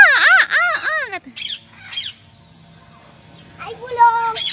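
Parrot at a bird park laughing, a series of rising and falling squawky cackles close by, then a pause and another burst, with people talking nearby.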